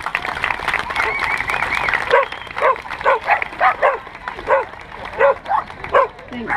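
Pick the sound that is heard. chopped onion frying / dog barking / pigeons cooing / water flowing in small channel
dog barking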